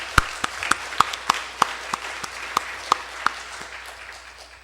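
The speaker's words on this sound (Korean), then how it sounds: "같이 한번 박수 한번 하겠습니다" A church congregation gives a round of applause during a Thanksgiving worship service, with sharp, fairly regular claps spread through the room that thin out and fade toward the end.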